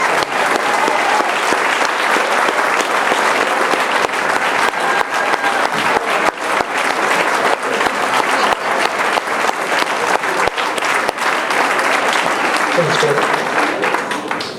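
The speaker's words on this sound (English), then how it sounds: "how about a big round of applause for Dr. Earl Benson" Sustained, loud applause from an audience at a high school 50th anniversary celebration, a thick continuous wash of many clapping hands lasting the whole stretch with a faint voice briefly beneath it.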